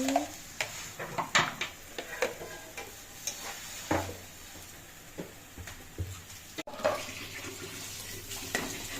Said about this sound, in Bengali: এবার কড়াতে এটাকে একদম শুকনো শুকনো করে কষাতে হবে